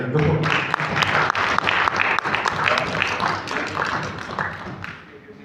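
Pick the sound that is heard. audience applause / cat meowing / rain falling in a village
audience applause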